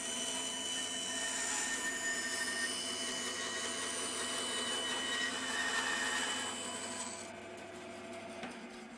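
A bandsaw cuts a curved profile in a piece of timber. A steady whine mixes with a rough rasp of the blade through the wood for several seconds, then eases and fades as the cut finishes. No one speaks.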